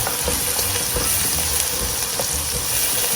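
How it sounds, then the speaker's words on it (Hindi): Chopped garlic and onion sauté in a hot pan for a spaghetti and meatball sauce, giving a steady, close crackling sizzle with light stirring and no voices. "इसे थोड़ा सा सौटे करना है।"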